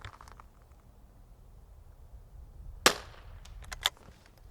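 A single sharp crack from a Tikka T1x MTR .22LR bolt-action rifle, fairly close and loud against quiet outdoor background, followed about a second later by a softer, shorter report.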